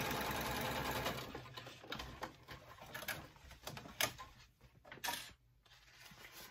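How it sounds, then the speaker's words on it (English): A sewing machine stitches across a lined stand-up zipper pouch in quick bursts of rapid mechanical whirring, with short pauses between runs; close and fairly quiet. "we're gonna sew all the way across here."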